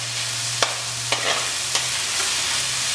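Onions and tomatoes fry on high flame in a pan while being stirred, a steady sizzle broken by a few sharp scrapes of the spatula, close and with no voices.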